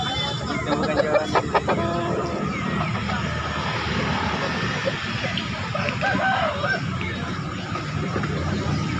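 Chickens at a local poultry market in Makassar, with clucking and occasional crowing over a busy, noisy background and people talking nearby.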